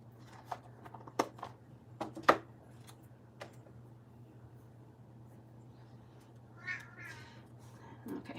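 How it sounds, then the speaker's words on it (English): A domestic cat yowls and meows loudly indoors in several short, sharp calls, with a longer drawn-out cry near the end, over a steady low household hum. "Harmony, did you just hear the cat? Because she's yelling at me now because she wants me to come upstairs"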